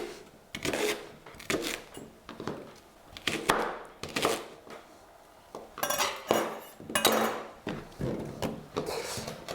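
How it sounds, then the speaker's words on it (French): A knife slices washed leeks into rounds on a board, producing a near series of irregular crisp cuts and knocks, some in quick bursts and others spaced apart, with no talking. "je vais les découper en rondelles"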